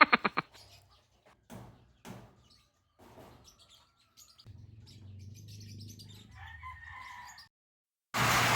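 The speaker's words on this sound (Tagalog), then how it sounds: "Nakakatuwa nga itong manok." A resting chicken gives scattered short clucks and chirps, then a longer sustained call, with quiet gaps in between and a sudden loud burst of noise at the end.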